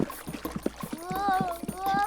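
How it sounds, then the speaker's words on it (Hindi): Water sloshes and spills in a cartoon as a rabbit carries it along, with quick splashy drips and splatters, while a character's voice talks over the later part. "संभल कर साइमन, तुम पानी गिरा रहे हो"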